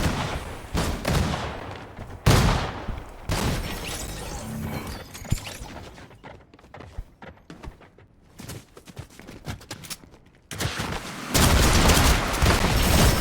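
Shotgun and rapid weapon fire in Fortnite come in loud bursts, with mechanical clatter and quieter stretches between the volleys.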